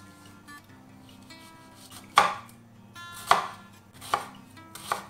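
Knife chopping smoked skinned food for paella on a board: four distinct, loud, irregularly spaced chops with quiet pauses between, no talk.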